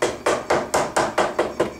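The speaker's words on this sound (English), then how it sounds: "so you have to hammer it this way and just keep going back and forth" About eight quick, evenly spaced hammer blows shaping a sheet metal buttplate onto a wooden gunstock in a gunsmith's shop, each a close, sharp metallic knock with a short ring.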